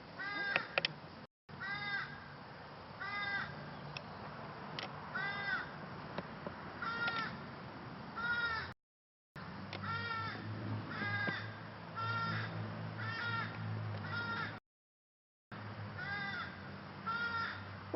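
A crow caws again and again in short, harsh bursts, fairly close and loud, with a few brief silent gaps between stretches of calling.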